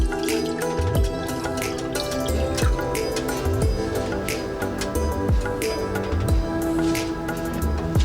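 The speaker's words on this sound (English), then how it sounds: "So I'm gonna add 2 cups of water." Two cups of water poured into a pan for simple sugar syrup, with a continuous splashing fill broken by repeated dripping plops, close up and alone.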